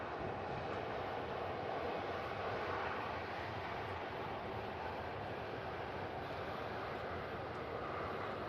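Aircraft at Manchester Airport, a Virgin A330 among them, produce a steady broadband jet roar heard from a distance, constant in level throughout with no talking.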